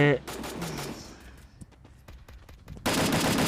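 Rapid bursts of Free Fire gunfire crack in quick succession, with a few scattered single shots in between, over a busy game soundscape.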